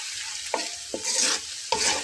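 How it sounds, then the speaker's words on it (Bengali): Sliced onions salted and frying in a pan for birista get stirred in three distinct scraping strokes over a bright continuous sizzle, close and loud, with no voices. "এখন আমি এখানে দেখুন লবণ ছড়িয়ে দিচ্ছি, এবং নেড়ে মিলিয়ে দিচ্ছি"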